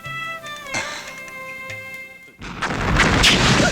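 A kathina firecracker goes off in a comedy film scene, a sudden loud broadband blast with a rumbling tail that cuts in after a quieter stretch of tonal music.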